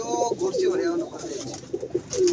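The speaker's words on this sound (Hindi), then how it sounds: "लो जी देख लें ये कबूतर आपके सामने, ये सब बैठे हुए हैं।" Pigeons perched together at a pigeon club, cooing in low repeated warbling calls close by, with a few soft overlapping coos and faint background chatter.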